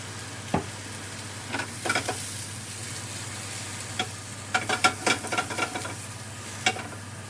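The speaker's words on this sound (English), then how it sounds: "I'm going to just put the mushrooms a little toss, maybe a little bit more oil." Mushrooms fry in oil in a pan for risotto, giving a low steady sizzle broken by scattered clicks and scrapes as they are tossed and stirred. The sound is close and quiet, with no voices.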